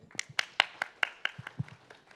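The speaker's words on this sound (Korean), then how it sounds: "여러분 박수로 맞이합시다" Scattered, sparse hand claps from a small audience at a policy forum welcoming a journalist to speak, about a dozen distinct claps spread over two seconds, fairly faint and without voices.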